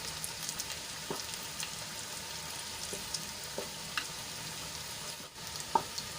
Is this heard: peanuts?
yes